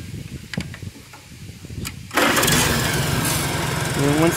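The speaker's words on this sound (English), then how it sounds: "And I'll get up here and start it." Farmall 100 tractor engine starting: a few clicks and clunks, then the engine catches abruptly and settles into a loud, steady idle rumble close by.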